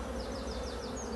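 Honey bees buzzing steadily at a beehive on a farm, a dense continuous drone with several individual bees passing close by, no talking.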